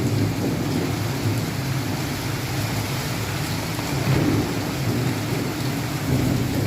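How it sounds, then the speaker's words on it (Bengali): Steady rain pours continuously while low, distant thunder rumbles and rolls beneath it, swelling in a couple of places. "এই যে বাজের শব্দ শোনা যাচ্ছে"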